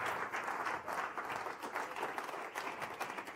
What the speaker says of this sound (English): Let's give Marnie a big standing ovation round of applause.